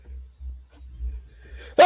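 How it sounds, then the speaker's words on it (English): After near silence with a faint low hum, one sharp, close sneeze bursts out abruptly at the very end. "Look at this sneeze."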